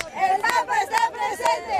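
Many voices in a big crowd welcoming Pope Francis on his U.S. visit chant together in a steady, repeating cadence, loud and close, with some mixed shouting.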